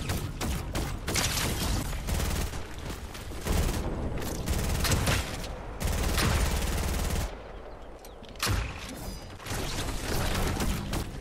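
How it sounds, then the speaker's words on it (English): Gunfire rattles through a Fortnite Reload zero-build match. The rapid bursts and single shots come in dense clusters, with brief gaps between them and some shots sounding more distant. "someone's shooting at us down the road."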